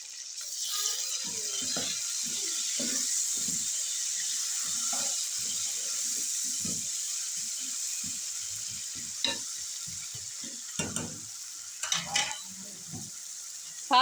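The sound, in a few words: tomatoes added to frying masala in a pan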